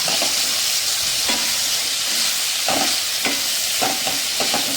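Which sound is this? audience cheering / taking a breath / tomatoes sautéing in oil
tomatoes sautéing in oil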